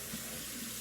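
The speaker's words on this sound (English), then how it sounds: "I'll rinse it with hot water too" Hot tap water runs steadily from a kitchen faucet while a drinking bottle is rinsed, a continuous close hiss and splash with no talking.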